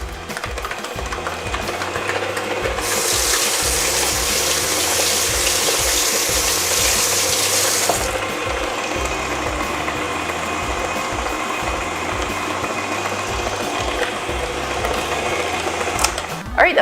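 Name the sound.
electric mixer mixing buttercream icing at medium speed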